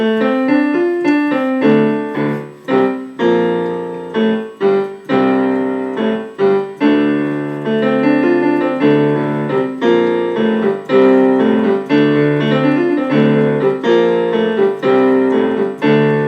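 Piano playing a song slowly, sustained chords and single notes ringing out one after another, clear and close with no talking.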